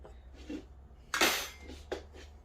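A knife chops garlic cloves on a board: a few separate knocks and clinks, the loudest about halfway through, with quieter taps around it.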